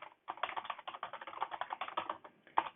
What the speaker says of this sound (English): this time we'll type 5 and we'll hit enter